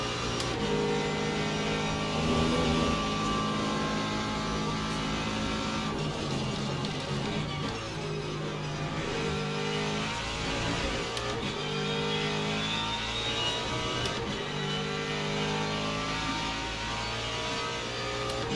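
Mustang GT3 race car engine lapping Imola in a racing video game, a steady loud droning roar with layered harmonic tones rising and falling through gear changes, continuous and close for the whole stretch.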